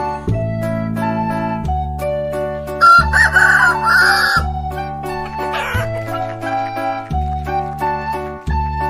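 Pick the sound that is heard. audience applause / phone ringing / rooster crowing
rooster crowing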